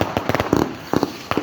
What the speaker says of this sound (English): here we go again with the amazing loud fireworks